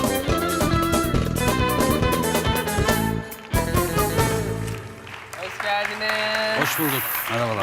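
Studio audience applause welcomes the couple Burçin Orhan and Sin Uygur, steady clapping mixed with loud music that briefly dips before fading into quieter tones.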